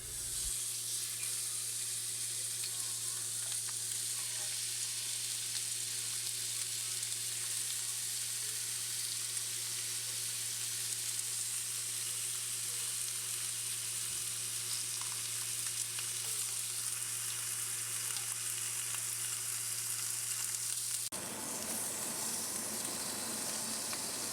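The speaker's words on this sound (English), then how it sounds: "We are going to be improving the flavor of the dish by simply searing the meat for 10 minutes or so until a brown crust forms." Beef sears in an oiled pan for a crockpot birria, producing a loud, continuous, even sizzle that holds steady for a long stretch before shifting slightly near the end.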